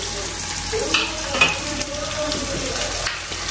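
Vegetables for mushroom do pyaza fry and brown in oil in a pan, giving a steady close sizzle with occasional stirring scrapes.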